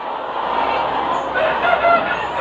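Chickens cluck and chatter continuously in a dense, noisy flock, close by and fairly loud.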